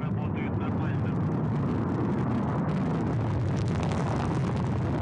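A Soyuz rocket booster in flight after launch gives off a broad, steady roar that sounds distant and fairly quiet, with no speech over it.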